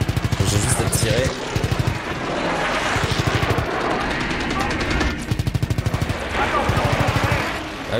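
Rapid machine-gun bursts from the video game Call of Duty: World War 2, set in the Battle of the Bulge, come in several loud sustained volleys separated by short gaps, with a voice talking over parts of the firing.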